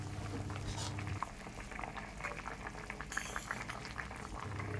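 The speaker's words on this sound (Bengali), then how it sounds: "ঝোল ভালো করে ফুটে উঠেছে" Rohu fish curry gravy bubbling steadily in a pan, a continuous close boil of popping and gurgling at low to moderate level with no voices.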